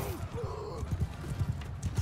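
Horse hooves clip-clopping at a gallop in Mount & Blade II: Bannerlord, a steady rhythmic pounding close by across the whole stretch, with a brief whinny early on and faint game ambience and talk underneath.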